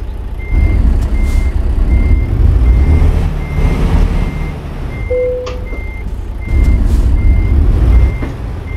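Repeated reversing beeps from a truck backing a trailer into a parking space in American Truck Simulator, steady and evenly spaced over a low diesel engine drone, with a brief higher tone partway through.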